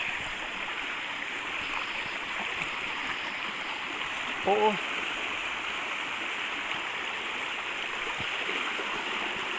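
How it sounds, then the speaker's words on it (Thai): A forest stream flowing steadily, a constant broad rushing hiss of water at moderate level, with one brief exclamation from a voice partway through. "น้ำไหลจอก"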